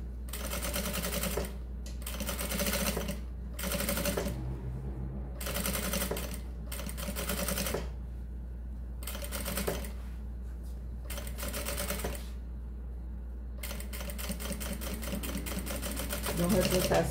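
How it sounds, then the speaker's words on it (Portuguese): Sewing machine stitching along the edge of a fabric pouch in repeated bursts of rapid mechanical whirring separated by short pauses, close and clear over a steady low hum, with someone talking quietly in between. "Vou começar passando uma costurinha aqui, ó, bem na beirinha, só de segurança."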